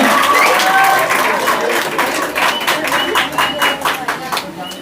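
An audience at an education institute event applauds to welcome an arriving guest, a loud burst of clapping with some voices mixed in, tapering off toward the end.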